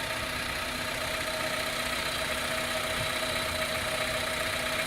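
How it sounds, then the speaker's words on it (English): Car engine idling steadily with a faint knocking rattle, a constant mechanical hum and vibration that stays level throughout with no clear rev rise, no talking. "Can you rev it a little bit? Just push it down on the gas pedal."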